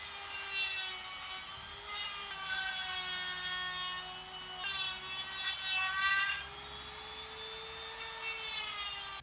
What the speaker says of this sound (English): let's minimize these a little bit more at the Dremel station.